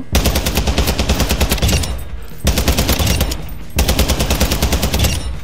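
A Warzone automatic weapon fires three sustained bursts of rapid, loud shots, each roughly two seconds long, separated by brief pauses.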